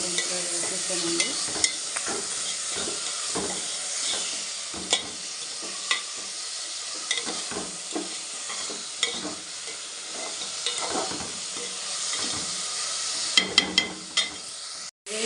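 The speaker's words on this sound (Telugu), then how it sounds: "ఈరోజైతే అయితే కాకరకాయ కూర వండుకుంటున్నామండి" Bitter gourd curry being stirred and fried in a pan, a steady sizzle running throughout with frequent scraping knocks of the spoon at an uneven rhythm, close and fairly quiet, with no talking.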